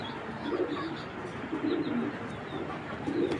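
Afsan grizzle female racing pigeon, stone-eyed with four wing bars, cooing in repeated low rolling phrases, close and steady, with no talk over it.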